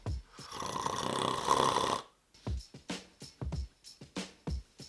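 A person snoring, recorded by a snore-tracking app: a long rough rattling snore, then a run of short regular snorts and breaths, close and moderately loud with no talk.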